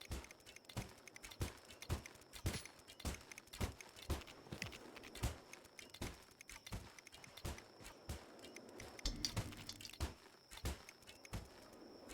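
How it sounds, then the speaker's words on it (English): Steady, evenly spaced drips of water in a video game, faint and near, repeating in a regular beat against a quiet background with no one talking. "Why was there a water sound just there?"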